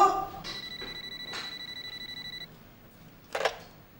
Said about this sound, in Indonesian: Bo, angkat telepon, Bo.